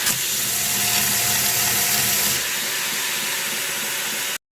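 Steel is ground against an abrasive to form the bevel on a handmade bushcraft knife. A loud, continuous broadband hiss with a mechanical hum underneath runs close up, eases partway through and then cuts off suddenly.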